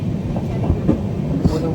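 A passenger train rumbles along, heard from inside a carriage, with a steady low roar and soft rhythmic knocks from the wheels passing over the rails.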